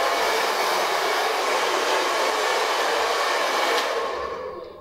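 A hair dryer fitted with a diffuser blows a steady, loud broadband whoosh while drying hair, holding constant for about four seconds before easing off at the end; no one speaks.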